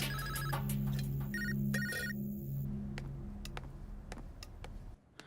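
A telephone rings in an indoor scene from a Hindi crime drama, its repeated electronic trill heard clearly over a low humming background, then fading away with faint clicks near the end.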